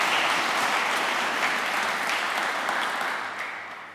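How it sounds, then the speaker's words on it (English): Steady applause from an audience, a dense wash of clapping that holds strong and then starts to taper off toward the end. "let's please give them a round of applause"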